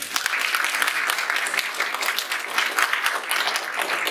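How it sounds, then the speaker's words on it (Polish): An audience at a school-themed talk event claps continuously, a dense, even wash of many hands at moderate loudness lasting the full few seconds with no speech over it. "Też oklaski dla Tomka."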